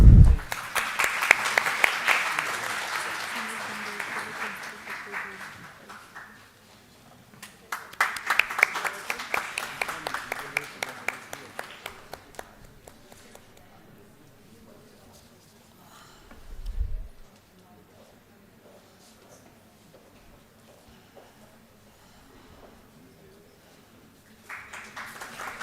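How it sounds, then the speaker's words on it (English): An audience at a formal ceremony claps in short bursts, a round at the start and another near the middle, fading into quiet room noise with a thump and a brief return of clapping at the end. "Please give a huge round of applause."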